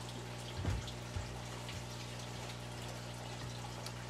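Liquid is poured into a bottle while setting up a vinegar eel culture, with faint trickling, a couple of soft glugs and splashes early on, then a quiet steady flow at low level.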